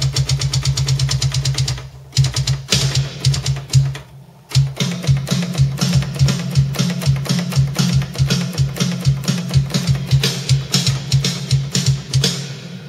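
Kick drum in a metal mix processed with a Chris Lord-Alge Waves plugin, playing fast driving double-bass patterns with dense cymbal wash above, breaking off briefly around two and four seconds before resuming a steady pounding run.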